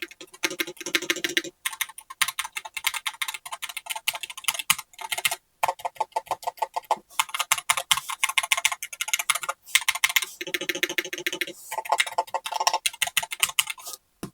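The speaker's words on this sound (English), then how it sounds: "So let's do a quick sound test while we're here." Keys clatter on a Monsgeek Fun60 Ultra 60% keyboard with magnetic Hall effect switches, in quick bursts of close, crisp clicks with brief pauses between runs, and no voices.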